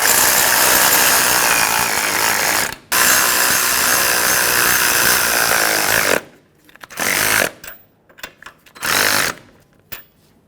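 Tightening the outer tie rod adjusting sleeve bolts on a 2000-2005 Ford Excursion with a power tool, loud continuous whirring bursts: a long run, a brief stop, another long run, then several short stuttering pulses.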